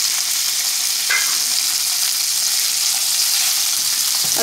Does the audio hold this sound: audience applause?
no